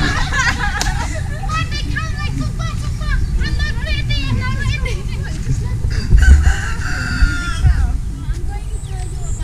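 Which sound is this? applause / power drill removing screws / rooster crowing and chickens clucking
rooster crowing and chickens clucking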